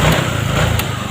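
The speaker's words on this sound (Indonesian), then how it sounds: "di saat kita coba gas, kita geber" A Honda Vario 125 scooter with a throttle sensor fault runs close and loud, its small engine buzzing steadily as the throttle is opened without it revving up properly.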